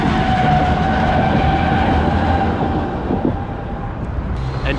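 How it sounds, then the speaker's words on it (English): An old-style tram on route 41 passing along a street in Budapest, a loud, steady rolling rumble with a faint high wheel squeal that gradually eases as it moves on. "Old school tram"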